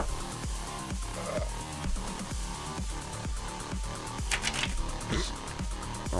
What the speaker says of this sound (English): I promise you I know how to shuffle cards